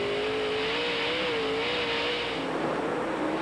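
Late model race cars roar around the Knoxville dirt track, a sustained loud engine drone with a steady pitch that rises and dips slightly as the cars drive hard through the turns.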